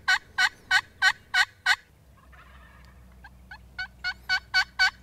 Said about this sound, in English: Calls at them again, and they gobble.